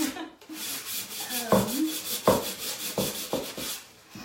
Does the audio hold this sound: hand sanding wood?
yes